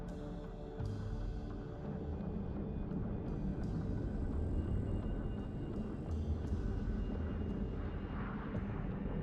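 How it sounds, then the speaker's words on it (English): Video game helicopter rotors and engines drone steadily and continuously, a dense low rumble with no talking. "They do like their helicopter spam."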